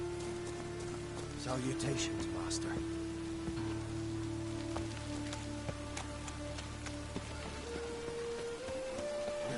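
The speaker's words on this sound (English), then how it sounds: "Must like the rain" Rain patters steadily in The Witcher 3 on PS4, a constant wash of drops beneath low ambient game tones, while a character briefly speaks a greeting over it.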